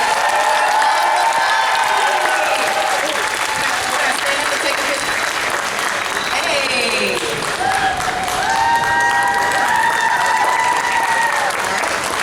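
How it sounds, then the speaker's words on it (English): A large convention crowd gives sustained, loud applause with cheering at a comic con panel with a guest, and the clapping holds steady throughout while a voice calls out and music plays underneath. "Let's have another round of applause"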